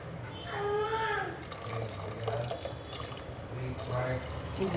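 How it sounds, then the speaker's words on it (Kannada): Water pours from a vessel into a pan of spicy okra gojju on the stove, a steady splashing stream that comes and goes, with a person talking over it. "ಸ್ವಲ್ಪ ನೀರು ಹಾಕೋತೀನಿ"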